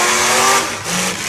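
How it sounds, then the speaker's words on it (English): Demolition derby car engine on a dirt track revving hard, a loud, close roar that dips briefly and climbs again over just over a second. "Oh, listen to that power on that 64J of Brua."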